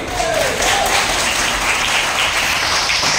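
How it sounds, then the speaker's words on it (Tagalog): Sustained, loud applause from an audience at a sermon on the Holy Spirit, a dense steady clatter of many hands filling the whole stretch with no gaps. "Grabe po yung palakpak mo"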